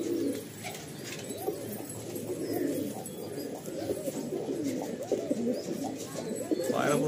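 Kaldam pigeons coo in low, rolling, overlapping calls close by, with a few faint chirps mixed in against a soft background murmur.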